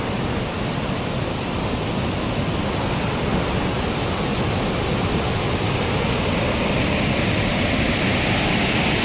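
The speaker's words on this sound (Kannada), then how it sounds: "ನೋಡ್ತಾ ಇದ್ದೀರಾ ಹೇಗಿದೆ ಮುಂಚಳ್ಳಿ ಫಾಲ್ಸ್" Unchalli waterfall near Sirsi, a loud, unbroken roar of falling water filling the whole clip with dense, steady rushing noise and no voices.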